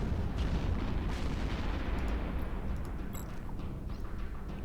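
Spaceship weapons firing in the space game Eve Echoes, a dense continuous rumble of booming blasts with faint high pings scattered through it, loud and steady throughout.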